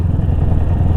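A BSA Goldstar motorcycle, recently back from major engine repair, rumbles steadily while being ridden, a low continuous engine drone with a bit of mechanical clatter and no talk.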